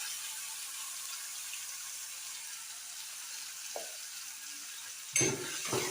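Ground onion, ginger and garlic paste sautés in a pan for mushroom gravy, giving a soft, even sizzle, then a louder burst of scraping and clatter as the paste is stirred in toward the end.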